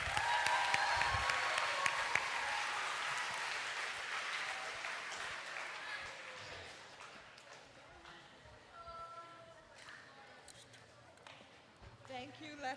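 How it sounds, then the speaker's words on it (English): School assembly audience applauds, a broad wash of clapping that starts loud and gradually thins and fades, with faint voices and scattered noises emerging near the end. "Panthers, let's give a round of applause."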